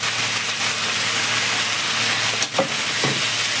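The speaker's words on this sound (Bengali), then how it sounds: "উচ্ছেতে জল ছিল একটু আধটু, তাই জন্য এরকম চটপট করছে।" Bitter gourd pieces carrying a little water fry in oil in a wok, sputtering with a loud, constant sizzle and hiss, broken by a couple of brief pops and scrapes near the end.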